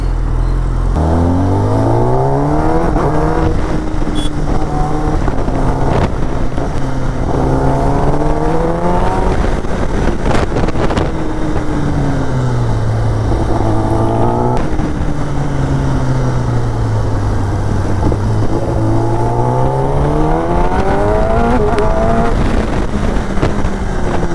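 A Kawasaki ZX10R sport motorcycle is ridden hard, its engine loud and close as it repeatedly revs up through the gears with rising whines, drops on each shift, and keeps a constant roar of wind, with no voices.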